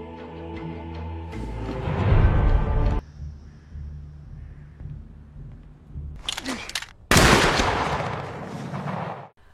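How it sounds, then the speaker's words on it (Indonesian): Pistol gunshots ring out during a duel scene in John Wick 4, sharp loud cracks in separate bursts between tense quieter stretches of film sound, ending in a heavy sustained blast of noise. "Kemudian mereka kembali saling menembak."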